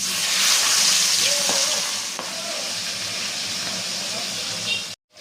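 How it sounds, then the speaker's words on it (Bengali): Pabda fish sizzles loudly in hot oil in a wok, a continuous hissing fry with faint spatters that cuts off abruptly near the end. "তেলটা গরম হয়ে গেলে মাছ এক এক করে ভেজে নিব"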